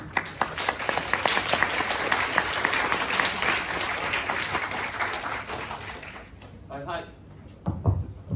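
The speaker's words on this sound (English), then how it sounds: "let's give a big applause to Henry and invite him" A crowd applauds a coach invited on stage at an emotional intelligence presentation, dense steady clapping for about six seconds that then thins into scattered claps and a few soft knocks.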